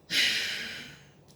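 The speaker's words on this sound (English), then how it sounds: "so take a deep breath, breathe out" A single deep breath out during Agnisar yoga breathing, a soft breathy exhale that starts abruptly, fades over about a second, and ends with a faint short sniff, heard alone.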